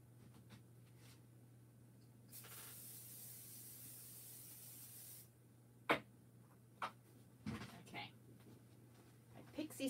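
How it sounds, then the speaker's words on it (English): Pixie Spray aerosol is sprayed onto craft mats in one sustained hiss of about three seconds, fairly close, followed by quiet clicks and handling noises over a low hum, with a person talking nearby. "Let me spray these with Pixie Spray quick."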